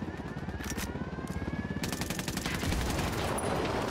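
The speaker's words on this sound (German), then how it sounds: "Heli im Anflug." A helicopter approaches in Ghost Recon Wildlands, its rotor chopping in a steady rapid pulse that grows louder and fuller, with bursts of gunfire crackling alongside.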